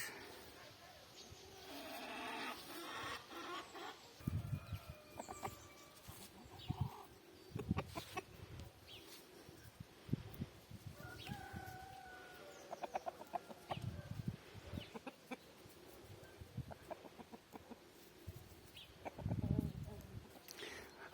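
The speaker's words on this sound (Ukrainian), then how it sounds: "фліртує півень" A rooster clucks and calls repeatedly in an outdoor farmyard, with birds and other faint background sounds around it.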